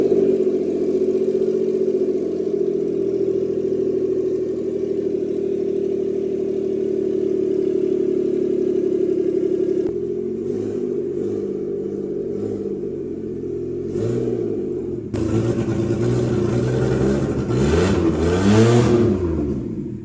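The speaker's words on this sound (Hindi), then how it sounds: "तो गाड़ी को हम उसके बाद स्टार्ट करते हैं।" A Suzuki Alto VXR fitted with a 660cc K6A engine cranks and settles into a steady idle, then is revved in several rising and falling bursts, close and loud with no talk.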